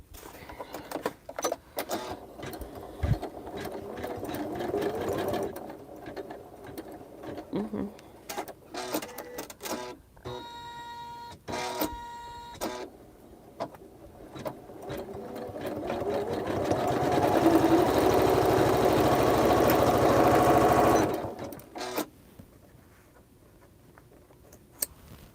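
A Janome embroidery sewing machine runs in short stitching bursts, then whirs in a sustained, louder run near the end, close by, with a person talking between the runs.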